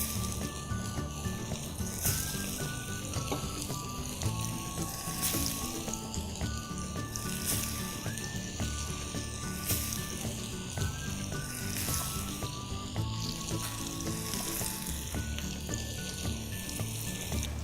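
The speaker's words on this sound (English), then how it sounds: "The oil is very hot, and I'm going to drop in the raw banana one by one." Raw banana slices coated in rava dropping into very hot oil, a dense, steady crackling sizzle that stays loud and close throughout, with no talking over it.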